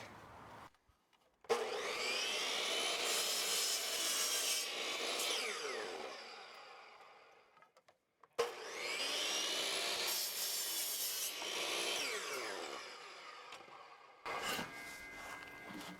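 A board is sawn to length in two long powered cuts, each starting with a sharp bite and then a loud, steady rasping whine for several seconds before trailing off. Short quiet gaps come between, and a brief third burst follows at the end.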